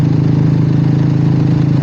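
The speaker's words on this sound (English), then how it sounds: "it was really picking up the exhaust note" A 350 motorcycle's exhaust note, recorded from a mic clipped to the saddlebag while riding. It is a steady, close, droning engine rumble with a low throb, and nothing else is heard.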